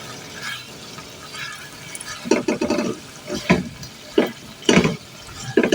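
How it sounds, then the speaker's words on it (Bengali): Chicken leg pieces being stirred during bhuna in a pan after five minutes covered, giving intermittent scraping and sizzling bursts that grow louder toward the end, close by with no talk. "ঢাকনাটা তুলে একটু নাড়াচাড়া করে"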